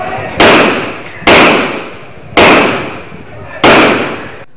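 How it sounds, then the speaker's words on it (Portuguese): Four loud gunshots ring out at steady intervals during a police shootout with drug traffickers in Rio's Complexo do Alemão favela, each sharp crack trailing off in echo, close and alone. "Nas primeiras horas do dia, policiais trocam tiros com traficantes."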